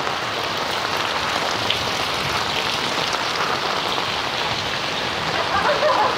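Steady heavy rain pours continuously, a dense hiss of drops hitting surfaces, loud and close with no voices, during flooding in Barangay Parian, Calamba.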